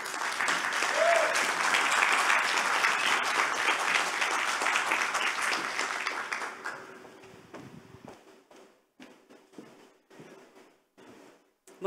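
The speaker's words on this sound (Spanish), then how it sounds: "recibámoslas con un fuerte aplauso" A conference audience applauds a presenter with loud, sustained clapping that fades out after several seconds, leaving scattered isolated claps and quiet room noise.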